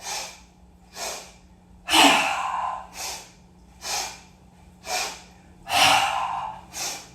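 Deep yoga breaths pass close to the mic in a steady cycle of about seven inhales and exhales, with two longer, heavier draws. No voice is heard, and a faint low hum runs underneath.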